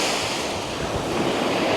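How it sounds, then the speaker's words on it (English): Calm sea waves wash steadily onto Ramsgate beach in a continuous, broad hiss with a slight rumble, close and moderately loud, with no voices. "Calm waves."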